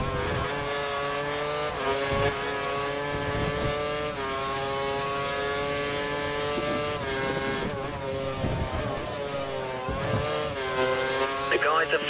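Formula One race car from the F1 2013 game at Imola, engine held at full revs and maximum power, a sustained high-pitched whine with steady harmonics and small pitch shifts, loud and continuous throughout.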